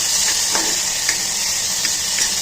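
Chopped vegetables and tomato hit a hot pan for chicken khichuri, giving a steady, even sizzle and hiss with a few faint stirring clicks, close and alone without voices.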